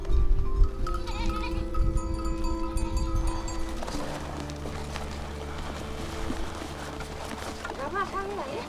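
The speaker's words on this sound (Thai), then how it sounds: "แพะกลับกันมาแล้วค่ะจากการไปหากินในภูเขานะคะมาแล้ว" Goats bleat in a herd as they come back down from mountain grazing near a Himalayan village, scattered calls and animal movement mixing with a steady outdoor background and some voices.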